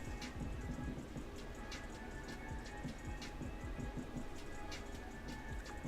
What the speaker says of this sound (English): that rain, I can hear it